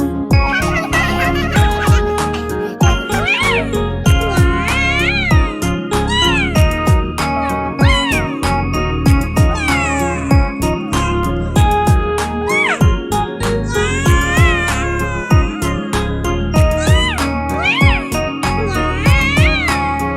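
Synthetic cat meows repeat steadily through a bouncy Hindi children's nursery rhyme about a cat, riding on top of loud, continuous music with jingling percussion.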